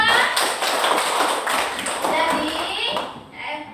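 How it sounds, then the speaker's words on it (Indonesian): Students clap for a classmate in a classroom, producing a steady patter of quick, light claps that lasts a few seconds, with voices murmuring faintly under it. "beri tepuk untuk Sadira"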